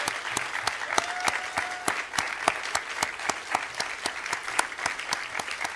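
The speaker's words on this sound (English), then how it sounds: "I would like to ask for a round of applause for them." Audience applause at a college honors convocation for graduating honors scholars, a steady dense clapping from a large crowd with sharp, regular claps standing out, sustained and fairly loud throughout.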